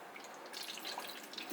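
Water from a 500 millilitre measure poured into a foam cannon bottle, a faint, quiet trickle and splash that picks up partway through, with no talk.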